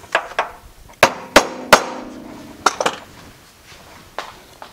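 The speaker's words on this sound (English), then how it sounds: "hammer tap." A hammer taps a stuck fastener during a thermostat replacement on an NC Mazda Miata, giving several sharp metallic knocks at uneven intervals, close and fairly loud with quiet ringing between strikes.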